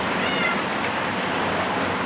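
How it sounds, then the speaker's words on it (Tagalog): Cats meowing inside a flooded house in the middle of the night while floodwater is bailed out; brief faint meows sit under a constant loud wash of water and household noise. "Kakaingay na yung mga pusa ko."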